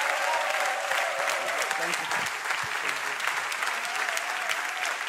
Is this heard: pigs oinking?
no